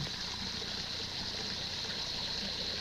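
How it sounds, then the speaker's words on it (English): Steady running water with a bright hiss, like a tap flowing continuously, close by and fairly quiet, with no voices. "sounded like water to me, too. Like a tap running."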